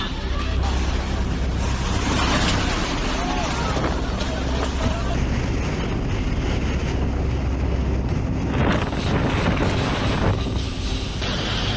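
Storm waves surge and crash near a seaside shore during a powerful typhoon, with wind roaring over the microphone in a loud, constant wash of noise that swells near the end.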